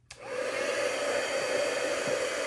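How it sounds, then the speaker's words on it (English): An embossing heat tool blows hot air over embossing powder, switching on with a quick click and rising into a steady, close whooshing hum with a fan whine, alone without voices. "I'm going to grab my heat tool here very quickly. It's going to get loud."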